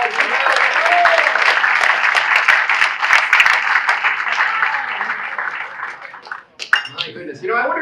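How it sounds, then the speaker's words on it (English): A dinner audience at a Chamber of Commerce appreciation event in Easton gives a sustained round of applause, loud and full, tapering off before a voice speaks again. "Let's give Nicole a big round of applause."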